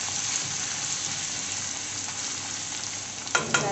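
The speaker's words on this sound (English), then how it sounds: "I am putting here first the ginger, garlic and chili. We will just stir it for" Ginger, garlic and chili stir-frying in a hot pan for a prawn curry with tomato and coconut milk, a steady close sizzle throughout with two sharp spatula scrapes near the end.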